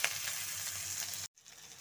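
Chopped onion and green chili sizzling in leftover fish-frying oil for a bitter curry, a loud steady frying hiss that cuts off abruptly near the end, followed by a quieter sizzle.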